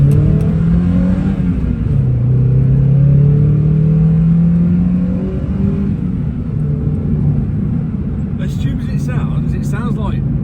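A Mazda MX5 with performance mods revs up, its engine note rising in long sweeping pitch climbs, loud and close inside the car, then settling to a rumble while people talk over it.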